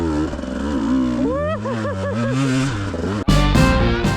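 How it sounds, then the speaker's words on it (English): A motocross motorcycle being ridden on laps, its engine loud and close, revving up and down in rising and falling sweeps, then bursting into a sharper, harsher roar near the end. "So the next morning, I went and did a few moto laps."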